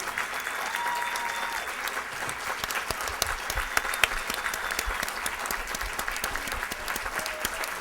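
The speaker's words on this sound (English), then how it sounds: "So please, let's all give a really, really special applause." Audience applause at a Dolores Huerta community gathering, steady dense clapping from a sizeable crowd sustained for the whole stretch at an even level, with no speech over it.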